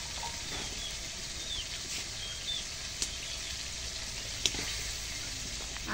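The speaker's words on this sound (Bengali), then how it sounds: "আলুগুলো দিয়ে এখন একটু কষাই নিই" Potatoes fry with pigeon meat in a pan, giving a steady, soft, even sizzle throughout with a few faint clicks and pops and no talking.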